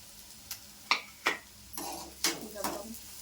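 A spatula taps and scrapes through onions frying in a pan until brown, sounding as a handful of quick close clinks and stirring scrapes over a faint low sizzle.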